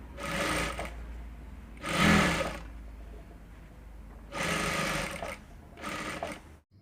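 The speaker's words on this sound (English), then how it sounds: "And then you're going to stitch together with 1/4 inch seam allowance." Sewing machine stitching a blouse seam with a quarter-inch allowance, running in four distinct bursts of steady mechanical whirring separated by short pauses, close and clear with no talk.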